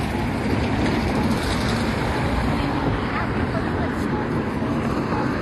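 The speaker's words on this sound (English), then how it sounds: "here's just cars coming out. I know it's a little loud right now." Road traffic in Washington, DC, recorded beside the road, a loud, steady roar of cars and heavier vehicles passing close by, continuous broadband rumble without distinct breaks.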